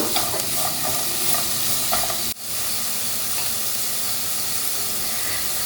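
Vegetables and spring onion stir-fried in a hot pan for chicken fried rice, a loud continuous sizzle and hiss with scraping stirs, a brief dip midway, then the sizzle resumes evenly without speech.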